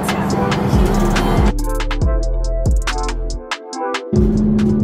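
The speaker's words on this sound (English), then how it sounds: "as you can hear, the road is very rough" A car rolls along a rough road through a newly developed area, its steady cabin rumble broken by several abrupt bumps and jolts, loud and close, with no one talking.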